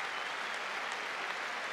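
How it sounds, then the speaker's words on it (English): A packed football stadium crowd at a 1996 Premier League match between Newcastle United and Manchester United gives a standing ovation, a dense, steady roar of applause filling the whole stretch at constant loudness. "Newcastle come off to a standing ovation, but Peter Schmeichel deserves the applause"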